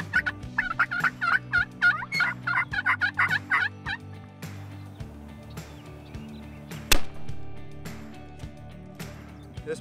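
A wild turkey gobbles in a rapid burst of loud, rattling calls, then quieter scattered sounds follow over a low steady background tone.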